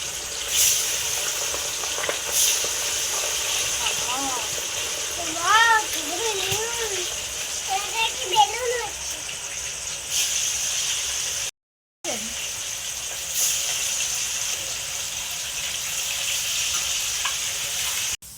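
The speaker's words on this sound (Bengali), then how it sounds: "রান্না পুজোর সময় এইসব মশলাগুলো দিয়ে মাছগুলো ভাজা হয়" Fish coated in cumin, fennel, turmeric and chilli fries in oil during a home Ranna Puja cooking day, with a steady sizzle running throughout while people talk in the background.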